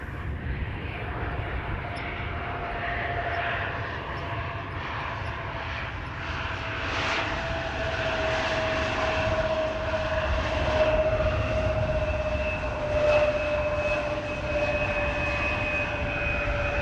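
Airliners on approach into Amsterdam Schiphol Airport on a cold, windy winter morning, a steady jet engine roar with a high whine that swells and fades as aircraft pass, continuous for the whole stretch.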